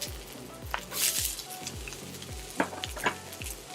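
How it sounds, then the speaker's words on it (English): Chopped onion sizzles in a carbon steel wok over medium-high heat, a soft continuous crackle with occasional louder spatters and stirring, close by but fairly quiet. "we're gonna drop the onion in here on medium-high heat"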